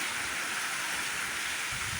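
Heavy unseasonal rain pours steadily in Junagadh, a dense, continuous wash of hiss with no pauses, loud and close throughout, with no voices.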